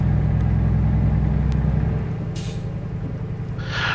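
A Scania truck driving in Euro Truck Simulator 2, a loud steady low engine drone that drops in level halfway through, with short hissing bursts like air brakes near the end.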